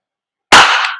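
A single sharp airsoft shot from an Umarex Glock 17 Gen 5 MOS pistol firing a BB, loud and close with a quick decaying tail, alone without talk.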